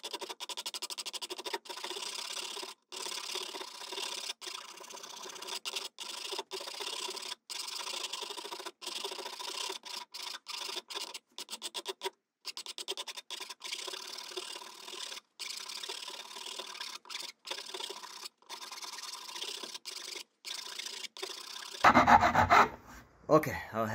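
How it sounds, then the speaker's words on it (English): A hand file rasps steadily across a birch bark knife handle during a bushcraft session in Swedish Lapland, close and continuous with brief pauses between strokes, ending in a sharper burst of scraping. "I'm holding back as I go forward with the file."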